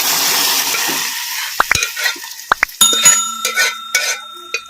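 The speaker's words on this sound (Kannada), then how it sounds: "ಈಗ ಇದನ್ನು ಒಗ್ಗರಣೆಗೆ ಹಾಕ್ಕೊಂಡ್ಬಿಡೋಣ" Andhra-style gongura dal tipped into a sizzling oil tempering, a loud hiss that fades, followed by ladle clinks and scraping taps against the pan, close up.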